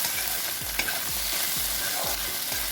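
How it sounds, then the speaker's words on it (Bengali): Pumpkin and sweet potato pieces frying in a pan while being stirred, with a rhythmic series of scraping strokes about twice a second over a steady sizzle, close and without talking. "2 থেকে 3 মিনিট ভাজতে দেবো। মাঝখানে ঢাকনা খুলে খুলে আমি নেড়েও দেবো"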